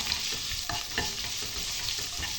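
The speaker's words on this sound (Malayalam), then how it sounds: "അതൊക്കെ ഒരു ഇളം ബ്രൗൺ കളറാവോളം നമുക്ക് നന്നായി വഴറ്റിയെടുക്കാം" Onions and green chillies sautéing in a pan for tomato rice, a continuous close sizzle with rhythmic spatula stirring scrapes.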